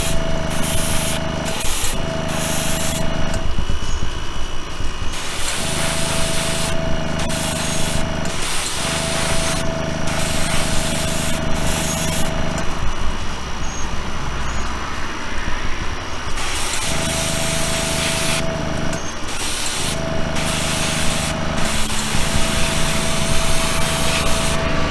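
Spray painting tack coats onto a diecast Lamborghini Centenario in a colorshift finish, with loud hissing aerosol bursts repeated in several passes and brief pauses between them, up close.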